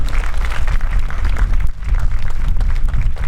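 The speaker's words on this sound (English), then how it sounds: "give these guys a big round of applause and welcome home." Audience at a veterans celebration ceremony applauding Vietnam veterans, a dense steady wash of clapping from a crowd that holds at a constant level throughout with a brief dip partway.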